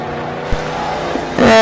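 Dodge muscle car in the racing game Forza Horizon 4, its engine droning steadily and loudly, then rising sharply into a higher-pitched rev at the end, with no talk over it.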